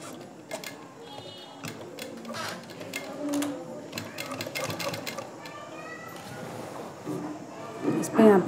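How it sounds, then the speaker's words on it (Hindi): A sewing machine runs in short rattling bursts while stitching the extra cloth on the side seam of a readymade lehenga, with ticking and clicking in between and someone talking throughout. "और जो ये एक्स्ट्रा कपड़ा है सिलाई इसी पे लेंगे हम"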